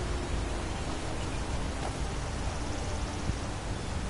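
A waterfall in the video game Skyrim gives a dense, steady wash of rushing water. It is broadband and even, heard alone with no voices for the full four seconds.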